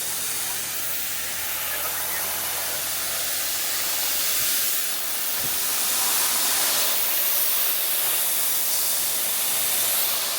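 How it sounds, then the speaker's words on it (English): A screw-on preset tire deflator lets air out of an overlanding vehicle's tire with a steady, loud broadband hiss that runs unbroken throughout and swells slightly near the end. "You just screw it on to the preset tire pressure and it'll air it down for you."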